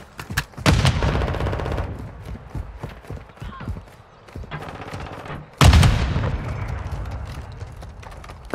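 Bursts of video game gunfire, loud and close, with rapid shots clustered in several volleys and a sharp heavy blast near the end, broken by quieter gaps.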